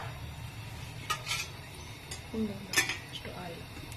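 A cooking pot set down and handled on a stove, with several sharp metallic clinks and knocks against a low steady hum, close by.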